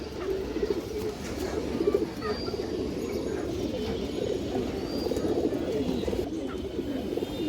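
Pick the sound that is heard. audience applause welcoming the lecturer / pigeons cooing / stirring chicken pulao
pigeons cooing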